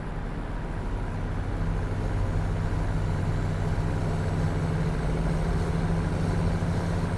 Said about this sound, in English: It doesn't like the engine's giving up.